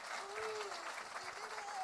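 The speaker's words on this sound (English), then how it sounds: "Give them a round of applause" An audience at an evening with Fishbone at the Grammy Museum applauds, clapping blending into a continuous wash of sound that is steady but not loud.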